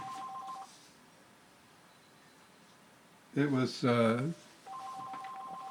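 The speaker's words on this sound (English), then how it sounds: "if you hear the phone in the background, I'm not getting up to get it" A telephone rings faintly in the background, two short trilling bursts at the start and end, while someone speaks briefly in between.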